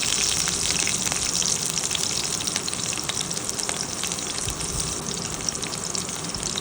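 Chopped chillies and garlic cloves sizzle in hot oil in a pan while making Telugu brinjal fry, a steady, close, dense crackling hiss that runs unbroken throughout.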